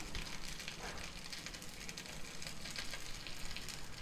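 Rice-flour dosa frying in oil on a hot pan, giving a steady, dense sizzle and crackle that runs unbroken from start to finish with no voices.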